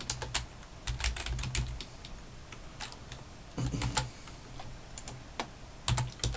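Keys clatter on a computer keyboard in short, uneven runs of close, quiet clicks, with brief pauses between bursts and no speech.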